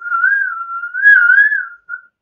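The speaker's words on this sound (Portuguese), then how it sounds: "só sei assobiar para dentro, assim, ó." A person whistles by drawing breath inward, producing one continuous wavering tone with a gliding pitch, close and clear, ending with a short separate chirp.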